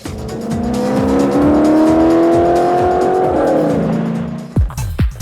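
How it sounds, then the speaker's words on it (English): Ford GT40 V8 engine revving loudly and steadily, pitch climbing then falling away, ending in a few sharp blips of the throttle. "The next thing that hits is its awesome V8 soundtrack."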